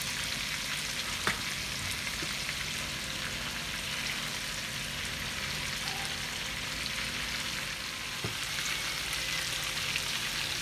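Beef browning in oil with seasonings for a classic stew, a soft, steady sizzle throughout with a few faint clinks and taps.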